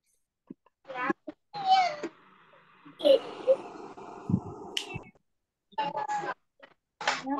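A storyteller imitates an angry cat with a string of drawn-out, wailing meows and yowls, loud and close, broken by short pauses and other vocal noises during a children's storytelling session.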